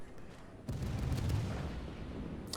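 German cruiser Roon in World of Warships firing a salvo of armor-piercing shells, a deep booming report that starts abruptly and rumbles on for about two seconds, with a faint sharper crack near the end.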